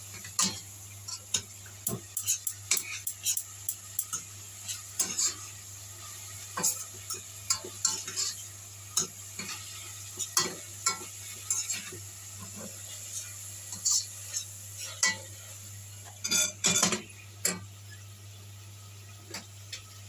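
Stirring Egyptian stuffed cabbage rolls in a pot: irregular light clicks and scrapes of a utensil against the pot, repeated through the whole stretch over a steady low hum, fairly quiet and close.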